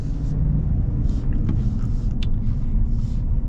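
A 2024 GMC Sierra 1500 AT4X pickup's 6.2-litre V8 rumbles steadily from inside the moving truck, a deep low drone with road noise and no talking.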